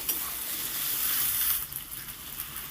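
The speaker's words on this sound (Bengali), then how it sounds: "একটু ভাজতে হবে যতক্ষণ না আদা রসুনের কাঁচা গন্ধটা যায়" Ginger and garlic paste sizzling and frying in a pan with salt and turmeric, a steady bright hiss with stirring scrapes throughout, close and moderately loud, with no talking.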